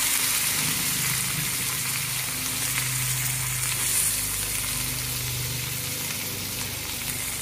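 Chopped onion sizzling in a pan with cumin and ginger-garlic paste while cooking a vegetarian thali, a continuous loud bubbling hiss with no talking.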